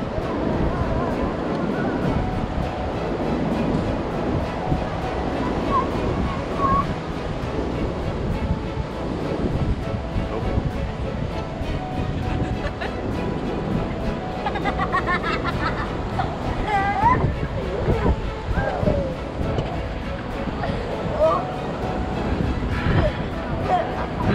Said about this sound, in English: Gotta be careful of those waves.